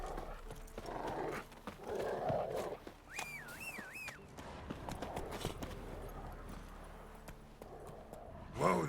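Horse hooves in The Witcher 3, clip-clopping steadily at a near distance with a brief whinny-like tone in the middle, under ambient game sounds.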